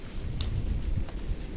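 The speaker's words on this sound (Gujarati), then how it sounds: "વરસાદ ચાલુ થઈ ગયો" A sudden rain shower falls over an outdoor seating area with benches, a dense steady hiss of rain with a low rumble of thunder underneath, continuous and enveloping.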